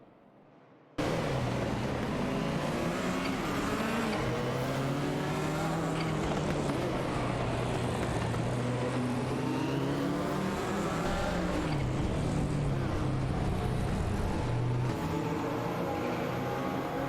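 Race car engines in a racing video game, including a Ford Sierra RS, roar continuously with rising and falling revs as cars accelerate and pass, loud and steady after a quiet start.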